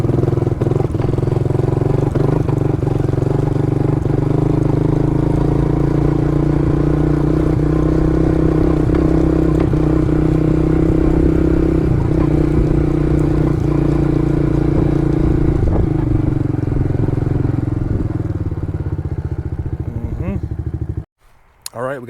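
A Kayo Bull 125 EFI kids' ATV engine runs at light throttle while being ridden. It makes a steady, close mid-pitched drone with slight clatter, then cuts off abruptly near the end.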